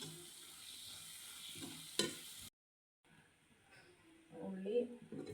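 Onions with salt frying in a pan and being stirred, a faint sizzle with a clink of the spoon, a brief silent gap, then soft stirring under a person talking.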